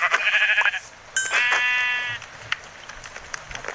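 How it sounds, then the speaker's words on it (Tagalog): Sheep in the video game Minecraft bleat twice, loud and close: one short bleat, then a longer wavering one after a brief pause, with faint clicks following. "mga tupa."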